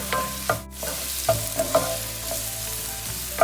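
Beans and carrots stir-fried in a pan for restaurant-style mixed fried rice, with a steady sizzle, scrapes and a few sharp clinks of the spatula against the pan, close and alone.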